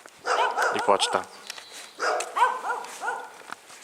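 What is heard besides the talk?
dogs barking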